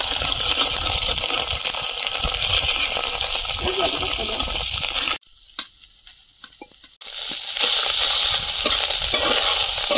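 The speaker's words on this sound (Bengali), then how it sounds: "মাছের ডিমটা ভেজে নেব।" Loud, steady sizzling of fish roe frying in hot oil in a wok, cutting out briefly midway before the crackling hiss returns at full strength.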